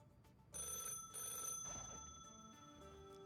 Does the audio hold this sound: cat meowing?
no